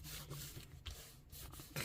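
Soft, faint rubbing to clear glue off a file folder junk journal craft page, a quiet scraping friction that continues steadily for a couple of seconds.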